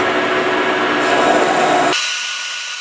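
A metal part spins on a lathe at 510 RPM with coolant running, giving a loud, steady whirring cut that cuts off sharply near the end, leaving a fainter hiss.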